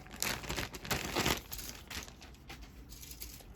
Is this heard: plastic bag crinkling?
yes